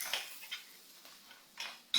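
A frying pan is set down on a stovetop ahead of cooking an omelette, giving a few light metallic clinks and scrapes spaced over two seconds, with a sharper clatter at the end.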